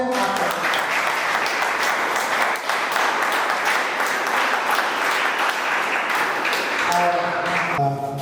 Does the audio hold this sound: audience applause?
yes